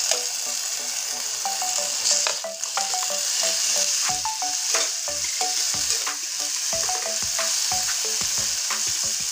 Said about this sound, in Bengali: এবার পেঁয়াজটা লাল করে ভেজে নিয়েছি, এবার দিয়ে দেব রসুন, কাঁচা লঙ্কা সব একসঙ্গে দিয়ে দিচ্ছি।